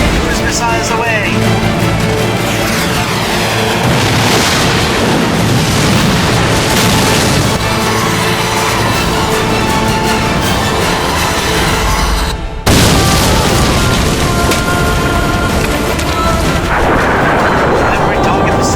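Missiles launch and explode in a war game battle, a dense, loud, continuous barrage of booming blasts and roaring fire with voices talking over it.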